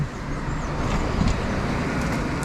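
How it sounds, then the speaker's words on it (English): A car drives past on a city street in Paramaribo, its road noise a steady wash of rumble and tire hiss that swells slightly midway, heard outdoors amid general traffic ambience. "Didn't a car just like drive past me already?"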